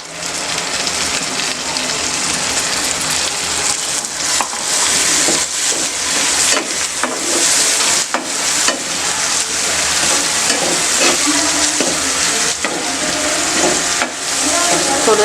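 Ground paste for stuffed pomfret sautés in a pan on a low flame, a loud, dense, continuous sizzle like heavy rain, punctuated by repeated scraping stir strokes throughout.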